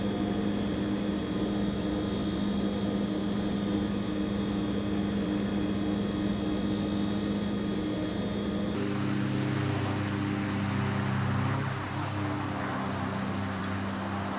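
A Hawker Siddeley HS 748 turboprop in a flight simulator drones steadily with a low propeller hum. Partway through, the tone shifts to a rougher, broader roar that continues to the end.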